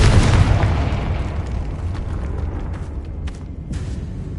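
A Confringo explosion spell in Hogwarts Legacy: one loud, booming blast at the start that trails off into a rumbling decay lasting several seconds.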